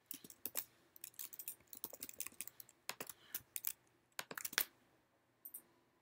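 Quiet, close clicking of a computer keyboard as someone types in short irregular bursts of keystrokes with brief pauses, ending with a few isolated taps.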